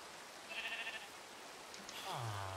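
Sheep bleating in a Minecraft-style video game, a short wavering bleat early on, then a second, lower drawn-out bleat near the end, both moderately loud over a steady rain-like background hiss.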